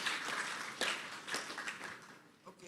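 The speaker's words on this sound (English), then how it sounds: "Big round of applause for these awesome panelists." Audience applause for panelists at the close of a conference session, a moderately loud wash of clapping that swells and fades over a few seconds with no talking.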